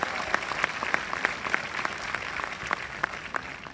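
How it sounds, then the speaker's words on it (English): Audience applause at a humanoid robot showcase at Techno India in Kolkata, a steady moderate clapping of a crowd with distinct claps popping out, fairly faint and continuous throughout. "A good round of applause"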